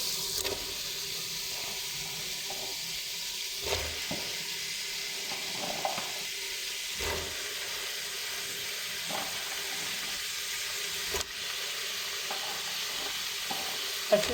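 Finely cut, small, thin strips of turnip fry with onion and tomato for a turnip and meat curry, giving a steady close sizzle broken by occasional scraping stirs and soft knocks of the spoon; no speech.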